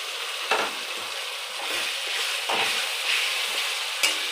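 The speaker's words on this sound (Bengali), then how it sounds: "আদা রসুন লঙ্কার পেস্টটা দিয়ে দিচ্ছি।" Ginger, garlic and chili paste sizzles with capsicum in a pan for chili chicken, a steady close frying hiss punctuated by periodic scraping stirs of a utensil against the pan.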